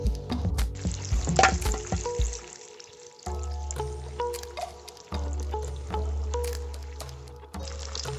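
Bacon fries in a pan outdoors over a fire with a soft, uneven sizzle, broken by clinks and scraping of utensils, one short pause, then the crackle resumes at moderate, close level.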